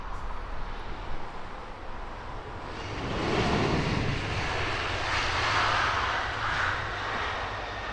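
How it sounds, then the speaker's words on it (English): Qatar Airways Boeing 777-300ER, a heavy arrival from Doha, landing on Heathrow's north side, its jet engine roar swelling and holding steady, with a broad rushing whine rising midway and lingering. "Next heavy arrival over here on the north side, Qatar Airways flight 119 in from Doha"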